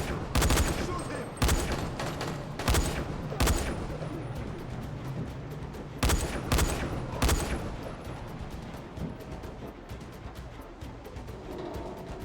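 Gunfire bursts loudly in the Dying Light video game, with several heavy volleys of shots clustered early, then thinning into intermittent rattles and a lingering noisy wash.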